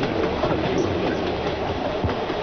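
Train rolling along rails with steady broadband rumble and faint clickety-clack of railroad cars, continuous and fairly loud throughout.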